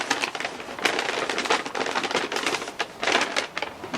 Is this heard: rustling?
yes